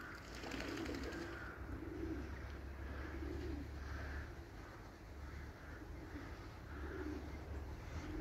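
Carrier pigeons give soft, repeated cooing calls in a steady rhythm over a constant outdoor hum, moderately near.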